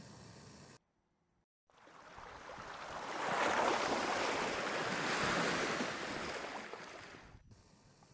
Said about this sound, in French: La mer est très haute et elle vient mordre le bord de l'herbus.